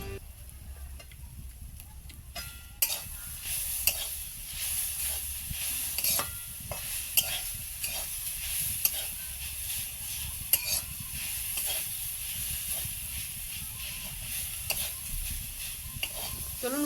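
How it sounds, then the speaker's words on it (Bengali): Grated coconut frying and sizzling in a pan while being stirred, with a steady close hiss and occasional sharp scraping knocks of the spoon against the pan, no talk. "আমার নারকেলটা ভাজা হয়ে গেছে।"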